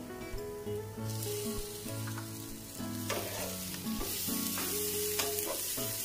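Tomatoes sizzle in a pan with garlic and ginger for matar paneer, a steady close frying hiss with occasional stirring scrapes, while soft background music plays underneath.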